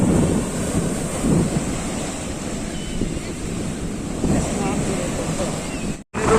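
Rough sea waves surging close to shore at high spring tide on a crowded beach, a constant loud roar of surf with wind buffeting the microphone and a brief dropout near the end.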